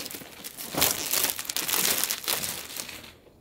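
Plastic wrap from an audio interface box crinkles and crackles loudly up close as it is unwrapped, a continuous rustling bunching of film that fades out at the end.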